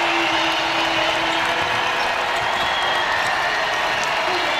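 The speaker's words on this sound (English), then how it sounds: "And listen to this crowd." Arena crowd at an LSU versus Alabama women's college basketball game, a loud steady roar of cheering and applause that holds at full strength throughout.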